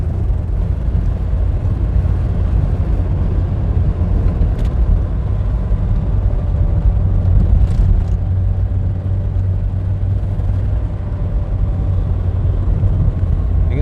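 Car interior on the winding road to 90 Mile Beach, New Zealand: a steady, loud low engine drone and road rumble with tyre noise, continuous throughout, with occasional faint knocks and no talking.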